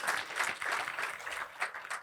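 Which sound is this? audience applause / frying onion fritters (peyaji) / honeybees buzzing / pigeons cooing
audience applause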